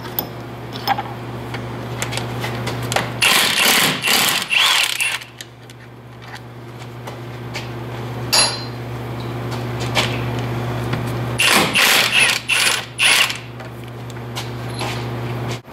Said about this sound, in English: On the back of the knuckle, we have 3 9/16 or 14 mil 12 point sockets that we gotta remove to get the hub off.